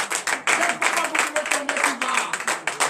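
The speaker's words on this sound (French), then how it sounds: "Donnez l'acclamation à Josué." A church congregation at a Saturday morning prayer service in Benin claps in quick, uneven bursts, loud and close, with a dense crowd of hands and voices underneath.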